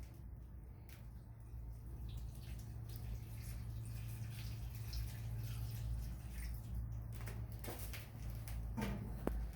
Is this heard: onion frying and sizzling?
no